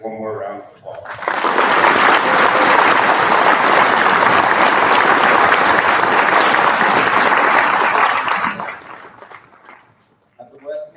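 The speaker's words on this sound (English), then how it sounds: "Let's give the speaker and our veterans one more round of applause" A crowd at a Veterans Day program applauds the speaker and veterans: loud, dense clapping swells in and holds for about seven seconds, then fades out, with talk heard before and after.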